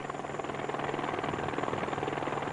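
A helicopter carrying a patient from an airport straight to a hospital, its rotor chop steady and fairly loud throughout, with a continuous engine drone underneath and no talking.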